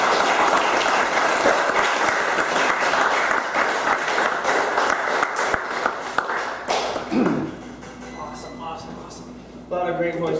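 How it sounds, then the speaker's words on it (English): Audience applause with cheering for a performer being introduced on stage, loud and dense for about seven seconds before fading into quieter crowd noise and talk. "So give it up for Josh Romig"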